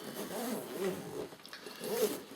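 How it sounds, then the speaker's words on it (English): Zipper opening the main compartment of a 5.11 Tactical Responder BLS 2000 bag, heard as two close, raspy zipping pulls with a short pause between them. "Zips down and round."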